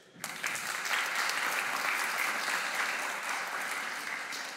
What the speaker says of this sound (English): Give a big applause to Richie Fink